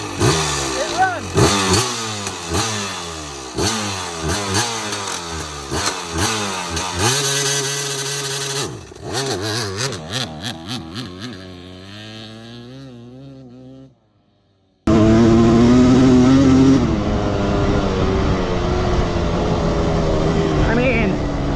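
A KTM 300 two-stroke dirt bike engine running rich on 32-to-1 premix, loud and close with a ragged, rapidly pulsing idle and blips, fading out briefly before bursting back into a buzzy, high-revving roar, with a voice talking over it.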